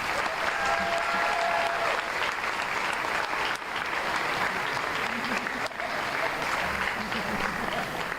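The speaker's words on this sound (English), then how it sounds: "they deserve another round of applause" Sustained applause from a sizable crowd at an alumni banquet, steady and dense clapping throughout with a few faint whistles early on.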